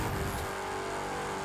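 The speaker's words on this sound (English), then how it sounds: "So let's do a top speed run on this car now." A Chrysler 300 SRT8 limousine in The Crew 2 holds a steady engine drone at speed on a top speed run, brief and continuous without a break.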